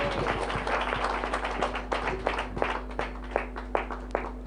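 A church congregation clapping loudly at a healing ministry service, rhythmic sharp claps over a steady hum and faint background murmur.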